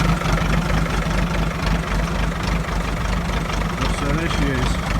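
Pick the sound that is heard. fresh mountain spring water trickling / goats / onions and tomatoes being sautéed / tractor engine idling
tractor engine idling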